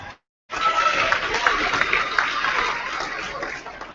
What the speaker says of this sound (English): another round of applause as Newark steps down